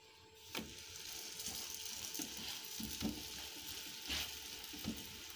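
Oiled qeema matar paratha frying on a hot tawa gives a steady, close sizzle, with scattered soft taps and clicks over it and no talking.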